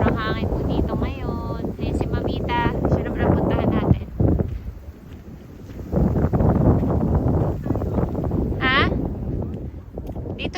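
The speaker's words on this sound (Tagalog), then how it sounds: "Ganyan, sobrang hangin po dito ngayon." Strong wind buffets the microphone at a park, roaring in heavy gusts that ease briefly midway before returning, while people talk throughout.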